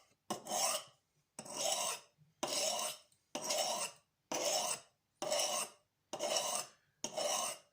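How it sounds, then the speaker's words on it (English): Kitchen knife drawn across a Norton India sharpening stone in eight even rasping strokes, each about half a second long with short silent gaps between, close and clear with no talking. "I am sharpening the knife."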